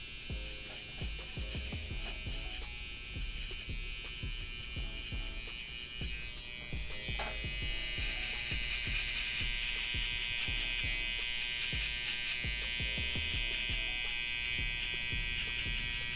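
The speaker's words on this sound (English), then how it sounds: "let's go ahead and see how the trimmers debulk by setting in this fade guideline" Hair trimmers from a black obsidian clipper set run with a steady high-pitched buzz while setting a fade guideline, growing slightly louder partway through, close and continuous with no talking.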